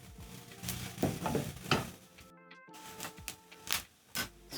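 Scrambled eggs are stirred in a pan as they cook, giving soft scraping strokes in an irregular rhythm over a faint sizzle, close and fairly quiet, with a brief silence midway.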